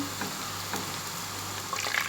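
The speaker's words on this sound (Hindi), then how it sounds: "प्याज को मैं फ्राई कर रही हूँ" Blended onions frying in a pan for beef paya, a steady close sizzle with faint stirring scrapes, no talk over it.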